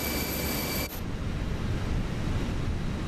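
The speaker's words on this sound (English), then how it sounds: "It's still very windy the way it sounds in here." Wind noise in Microsoft Flight Simulator 2024 inside a Fenix A320: a high whine cuts out early, leaving a steady, rumbling, gusty roar that fills the rest of the clip, loud and close, with no speech.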